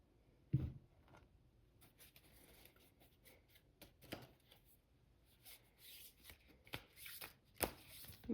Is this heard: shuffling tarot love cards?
yes